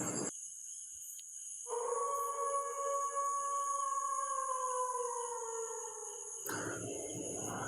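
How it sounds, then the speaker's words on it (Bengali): Crickets keep up a steady, shrill drone through a dark forest at midnight, joined midway by a long, wavering howl-like tone that slowly slides downward before fading. "চারপাশে শুধু ঝিঝি পোকা ডাকছে"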